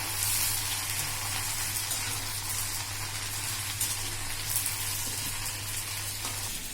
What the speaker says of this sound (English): See, I am just frying it.